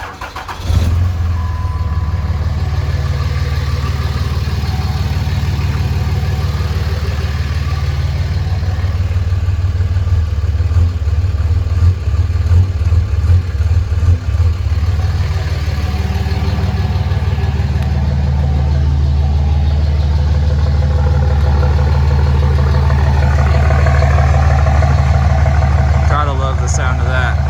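A Cummins diesel pickup truck cranks and fires after its glow plugs cycle, then settles into a loud, steady, rumbling idle that continues close by; a voice talks over parts of it.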